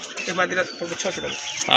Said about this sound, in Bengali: এটা হচ্ছে একটা মাদি কবুতর